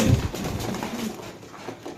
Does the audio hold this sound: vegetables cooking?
no